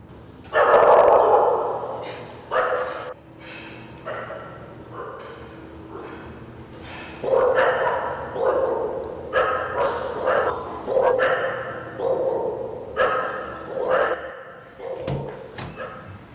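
Several dogs at an animal shelter bark in loud, repeated bursts, some sharp yips and whimpers mixed in, echoing in an indoor kennel space with brief pauses between volleys.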